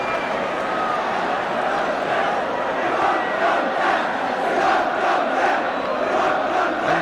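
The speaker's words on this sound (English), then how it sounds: "cry from the crowd is, "We won't go down."" Football crowd at a 1976/77 Division One match between Spurs and Aston Villa chanting "We won't go down," a dense, sustained roar of many voices with a rising, rhythmic swell and no single voice standing out.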